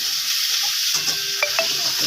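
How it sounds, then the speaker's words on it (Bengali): Potato pieces frying in a pan at home as they are stirred, a close, steady sizzle with brief scraping stirs and a couple of short clinks near the end. "আলুটা দিয়ে নাড়াচাড়া করতে হবে।"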